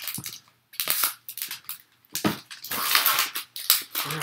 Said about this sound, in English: We're going to open up the 10 packs first and see what we get.